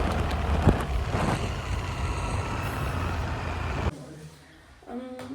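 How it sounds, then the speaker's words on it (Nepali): Heavy wind rumbles and blasts against the microphone for several seconds, then cuts out abruptly into quiet, followed by a brief voice. "यति हावा चलिरहेको छ कि मेरो फोन पनि उडाउन लागेको छ"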